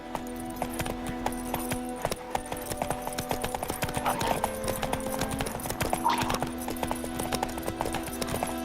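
Hooves of Roach, the horse in The Witcher 3 video game, clip-clopping in a steady rhythmic gait over a constant low musical drone, with a brief whinny-like sound partway through.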